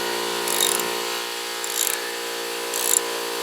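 A wrench works loose the spindle bolts on a Cub Cadet LT1045 riding mower. Three short metallic clicking bursts are heard over a steady background hum, close by and with no speech.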